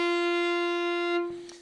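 One sustained violin F natural, bowed evenly and heard up close, ringing for over a second before trailing off into a soft scrape.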